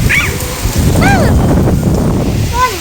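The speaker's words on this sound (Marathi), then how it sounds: "कसा पाऊस पडतो आहे ना" Steady, dense hiss of rain falling close by, with faint snatches of a voice over it.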